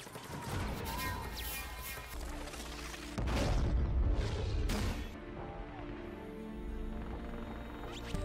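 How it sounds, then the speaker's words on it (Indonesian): Continuous movie battle noise with repeated gunshots and deep booming blasts, a heavy crash near the middle, dense and rumbling throughout. "tembakan tersebut langsung disambut oleh kelompok teroris tersebut, hingga peperangan pun terjadi"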